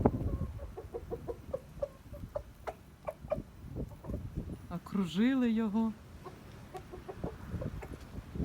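Hens cluck and chatter in short bursts around a rooster that lets out a brief crow midway, while someone talks quietly over the flock.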